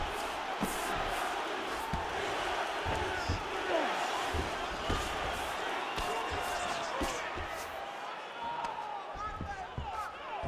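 Arena crowd at a UFC fight between Georges St-Pierre and Justin Gaethje, a steady loud roar of many voices with scattered shouts and thuds throughout, with commentary-like voices mixed in.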